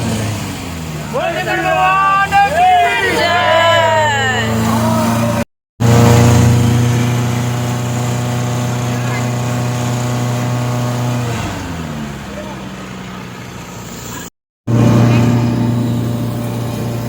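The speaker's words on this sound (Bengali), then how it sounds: "চলো, বোট আমাদের ছেড়ে দিয়েছে।" A motorboat engine drones steadily and loudly as the boat pulls away on the river at Varanasi, holding a constant hum that shifts pitch partway through, with people talking and chanting over it nearby.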